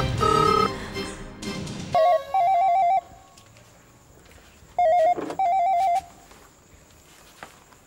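An old-style telephone rings in two short double bursts with a pause between them, clear and close, after a brief spell of other sound at the start.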